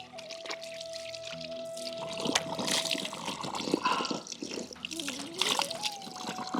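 Water pours and splashes into a vessel in a home, with trickling and splatter running under people talking, and a brief tonal hum in the background.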